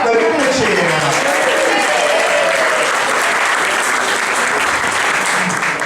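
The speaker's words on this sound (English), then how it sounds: "give him a cheer now" A dense crowd applauds and cheers at a bar talk in Bexhill, loud sustained clapping mixed with whoops and voices that stays close and full for the whole stretch.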